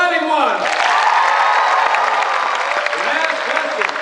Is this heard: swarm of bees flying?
no